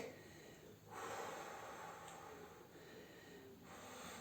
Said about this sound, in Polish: wdech, wydech, wdech, wydech